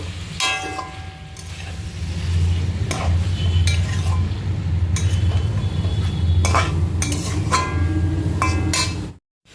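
Chicken is stirred in a pan with turmeric and chili powder, a low sizzling bed broken by repeated sharp clinks and scrapes of a utensil against the pan, close and alone before a sudden stop.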